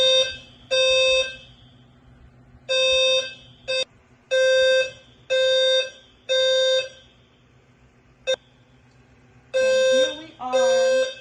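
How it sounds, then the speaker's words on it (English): An apartment complex fire alarm blares in repeated loud, harsh electronic bursts, each lasting around a second, with short gaps and a few brief chirps in between. "the apartment complex fire alarm goes off."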